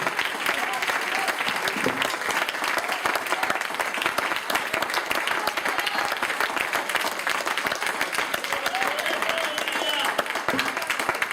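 A congregation at a youth church service applauds in a dense, sustained roar of clapping that runs without a break, mixed with voices and cheering throughout.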